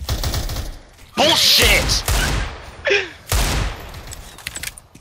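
Bursts of gunfire from a Counter-Strike match, several sharp shots in quick clusters loud against game ambience, with someone shouting in frustration between them.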